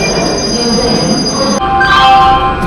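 Old passenger train stopping at Attari station on the Amritsar–Lahore route, with loud rumbling rail noise giving way to high squealing wheels as it brakes, close and continuous.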